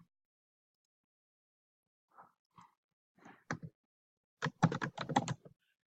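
Names typed into a spreadsheet on a computer keyboard: a few sparse keystrokes, then a quick close run of clattering key taps, alone in a quiet room.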